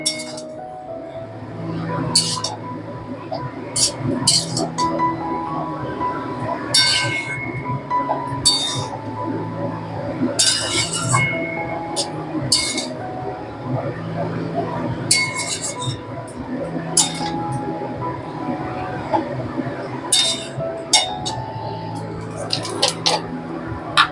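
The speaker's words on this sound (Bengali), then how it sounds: "এই সব বাটিগুলো ধুয়ে" Small metal spice bowls are rinsed with water in a home kitchen, clinking and knocking together in irregular bursts with sloshing water underneath, while someone talks through much of it.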